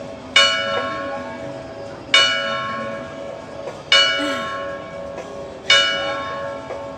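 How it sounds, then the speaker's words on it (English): A church bell tolls four times at a slow, even pace, each loud strike ringing out and fading into a long humming decay. "The sound of the bells."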